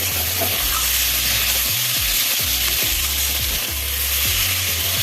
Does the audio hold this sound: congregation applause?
no